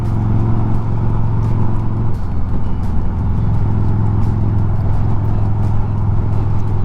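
A Harley-Davidson motorcycle cruising on a road in the NJ Palisades, its engine rumbling steadily and close with wind noise, no talking.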